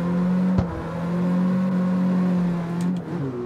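A car in the street-racing video game CarX Street with its wheels spinning, a steady droning engine tone held for a few seconds and then dropping in pitch near the end, loud and continuous.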